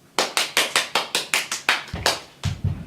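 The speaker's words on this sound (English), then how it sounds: "Let's welcome, with a warm round of applause," A single pair of hands claps about eleven times in a steady, fairly close rhythm, the last few strikes heavier and duller, welcoming a guest with no voices over it.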